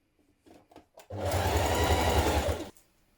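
A sewing machine stitches the leg cuff onto a onesie in one steady run of about a second and a half, after a few soft handling taps, then stops.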